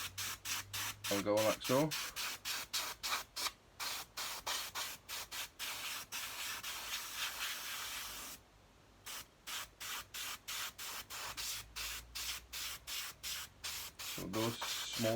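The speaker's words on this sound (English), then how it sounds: "So I'm gonna use my airbrush." An airbrush sprays paint onto a diorama base in short, regular hissing bursts that repeat steadily, with one longer pause; someone speaks briefly near the start and end.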